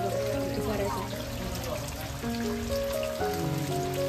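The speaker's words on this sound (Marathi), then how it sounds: "आज खूप पाऊस पडला यार एक नंबर" Steady heavy rain hisses on a hard surface throughout, with sustained tonal sounds and some voices underneath.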